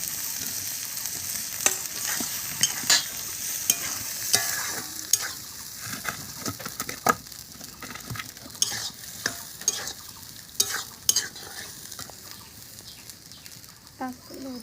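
Peas and fried potatoes are stirred together in a pan, with sharp, irregular spoon scrapes and clatters over a faint sizzle, close by and with no voices.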